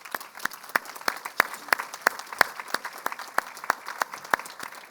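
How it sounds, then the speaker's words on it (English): An audience gives a round of applause, heard as a steady run of sharp, evenly spaced claps at close range, with no talking over it. "So if we give them a round of applause."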